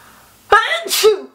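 A single sharp sneeze bursts out close by after a quiet moment, a quick intake then an explosive, breathy release.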